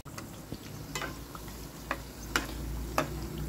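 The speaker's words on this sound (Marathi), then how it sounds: "गरम झालं आहे आणि मी आता वडी तळवत आहे." Alu vadi pieces deep frying in hot oil, a soft steady bubbling sizzle with occasional faint clicks and taps of a utensil, fairly quiet and close.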